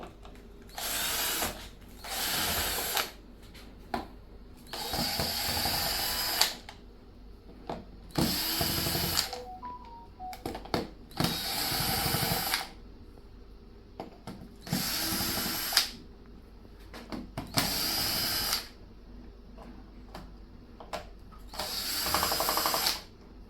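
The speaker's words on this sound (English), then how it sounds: "Now I remove all the screws." Cordless power drill loosening screws from an infrared cooker, several separate bursts of whirring a second or two long with pauses and small ratcheting clicks between, close and clear.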